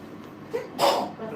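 A single sharp sneeze bursts out over faint background chatter, short and fairly close.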